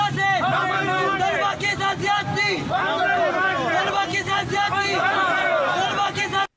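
Students from Kohat University and other institutions protesting in front of Kohat press club in intense heat, a loud crowd chanting and shouting together in rhythmic bursts, close and sustained.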